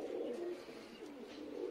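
A Madrasi pigeon coos softly, low rolling coos repeating in a steady rhythm, close and quiet, with no talking.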